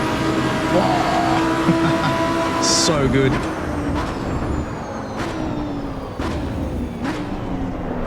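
A high-revving Lamborghini Huracan STO engine screams steadily near top speed with whining tones rising and falling, loud and close, while a voice speaks briefly over it.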